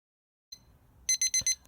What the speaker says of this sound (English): The timer's gone off.